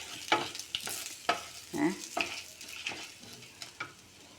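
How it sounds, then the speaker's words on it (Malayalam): Coriander and spices frying in a pan after the heat is turned off, with quiet scraping stirs and soft crackles coming in short bursts. "ഞാൻ ഓഫ് ചെയ്തിട്ട് ആ ചൂടിലൊന്നും കൂടി ഇതിനിങ്ങനെ നന്നായി ഫ്രൈ ചെയ്യണം"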